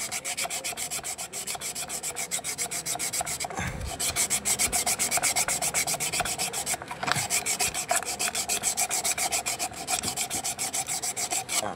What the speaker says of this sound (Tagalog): So, lihain muna natin ito.